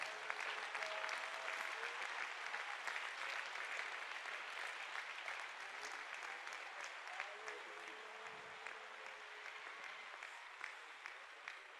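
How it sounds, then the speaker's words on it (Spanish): A church congregation at a large convention applauds, producing a steady, distant-sounding wash of clapping that holds for the whole stretch. "No sé si le quiere dar un aplauso al Señor"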